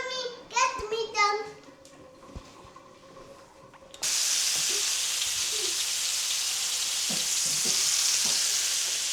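Food browns in olive oil in a hot frying pan. A loud, even sizzle takes over after a short stretch of talk and continues steadily with small stirring knocks.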